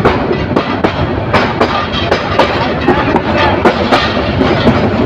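Bijoy Express passenger train 785 on the Chittagong to Jamalpur run rolling past close and loud, wheels beating a steady, rhythmic clickety-clack over rail joints.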